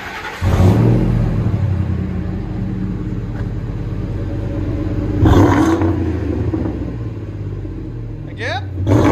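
A 2001 Ford F-150 with a 5.4L Triton V8 and true dual exhaust through Flowmaster Outlaw mufflers revs in a deep, close rumble, with several surging throttle blips and people talking over it.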